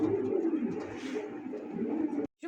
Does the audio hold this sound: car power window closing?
no